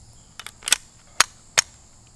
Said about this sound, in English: So first 10 shots with the Yeet cannon 9mm, brand new from High Point Firearms.